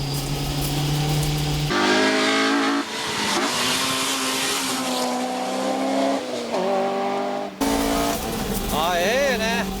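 A Nissan 350Z is driven on a sandy, leaf-strewn track, its engine note rising and falling through shifts and closing with a brief tire squeal, loud and close beneath steady in-car commentary.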